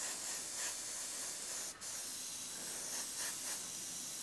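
Paint hisses steadily from an airbrush during 1940s vintage-style work, a soft continuous spray sound at close range with slight pulses as the trigger is worked, and no talking.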